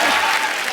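Studio audience applauding on a Hindi comedy show as a singer is welcomed, a brief, loud, continuous burst of clapping.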